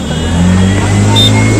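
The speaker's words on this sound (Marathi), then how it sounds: "इथे ट्रॅफिक बघा किती आहे." Road traffic around an auto-rickshaw, a steady loud engine drone with a low hum close by, a brief rev as other vehicles pass.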